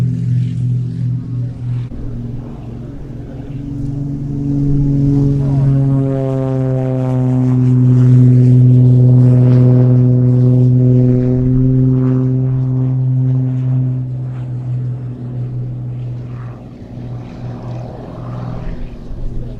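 A propeller aircraft taking off from a private airfield, its droning engine note rising in volume and pitch as it passes nearby, then fading into the distance.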